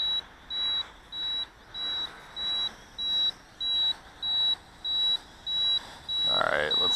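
A Sky Viper V950HD video drone gives off a steady series of about eleven sharp, evenly spaced high beeps, with faint talk and wind underneath.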